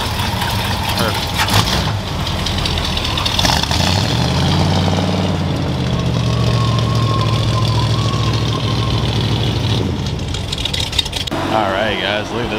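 A hot rod's engine idles while warming up, a low rumbling, slightly lumpy drone holding steady up close as someone talks over it at the start and end.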